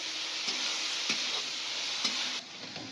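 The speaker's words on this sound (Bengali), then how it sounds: "এবার দিয়ে দেবো যে ভেজে রাখা কাজু কিশমিশটা, দিয়ে আবারও 2-3 মিনিট নাড়াচাড়া করে নেবো" Fried rice with fried cashews and raisins stirred in a hot pan, a steady close sizzle with soft spoon scrapes recurring every second or so, easing slightly near the end.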